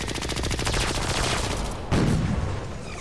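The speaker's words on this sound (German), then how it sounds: "Ich weiß gar nicht mal, wo die Schüsse herkommen." Rapid gunfire from a video game rattles in dense repeated bursts, with a louder, heavier blast about two-thirds of the way through, loud and steady throughout.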